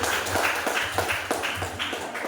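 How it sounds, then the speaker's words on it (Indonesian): A classroom of students claps for the first group's presentation, a few hands slapping in an uneven, rhythmic pattern of distinct claps, close and moderately loud, with no talking. "beri tepuk tangan untuk kelompok satu"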